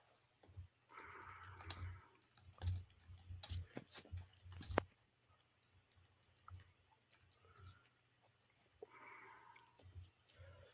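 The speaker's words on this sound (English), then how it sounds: "I'm typing some of the picks in the news ticker" Quiet clicking keystrokes on a computer keyboard come in short bursts, with a voice talking softly in between.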